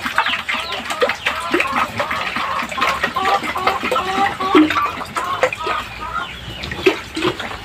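Aseel chicken chicks about one month old chirping and peeping in rapid, overlapping high calls, close by, with a voice talking intermittently alongside.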